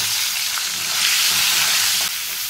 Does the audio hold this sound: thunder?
no